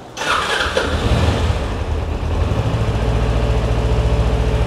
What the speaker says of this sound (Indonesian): mending nih motor kita coba nyalain ya